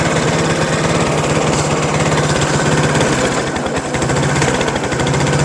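A small gasoline engine with a clogged fuel line runs steadily close by, its rapid even chugging loud and unbroken, with no voices over it.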